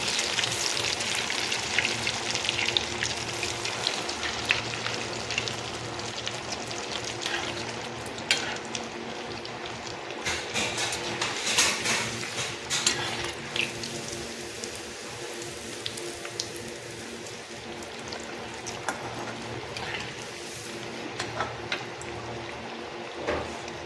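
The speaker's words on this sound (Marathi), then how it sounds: "अशी सुरमई मच्छी सोडायची, चांगले फ्राय करून काढायची ब्राऊन करून" Surmai fish slices frying in a pan until brown, a continuous close crackling sizzle with irregular spitting pops over a long stretch.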